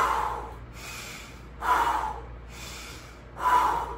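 A person breathes forcefully during a fire-breathing 'dragon wings' move in a home workout, with three loud, sharp exhales spaced evenly and softer breaths between them, close and without talk.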